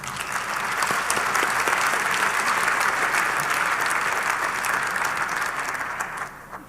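Steady, full applause from a large audience at a plenary session of a francophone university association, a dense roar of clapping held for several seconds before tapering off at the end.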